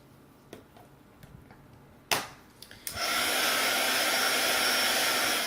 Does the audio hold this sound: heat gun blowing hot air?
yes